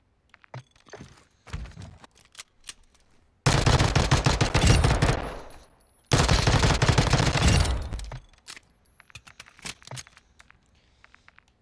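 Bursts of automatic gunfire from a gun in the Warzone 2 video game, two long loud rattling volleys separated by a short pause, with scattered single shots and quieter clicks before and after.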